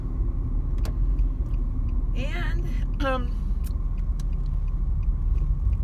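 Steady low road rumble from inside a moving car, a continuous drone with someone talking briefly over it.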